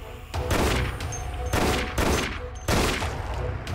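Bursts of gunfire ring out in the zombie shooter game Dead Effect, three loud, dense volleys spaced about a second apart, each trailing into a noisy reverberant tail.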